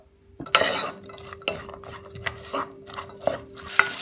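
Onion and garlic fry in vegetable oil in a pan on a gas stove, with a spoon scraping and clanking against the pan in irregular strokes over a faint, low sizzle.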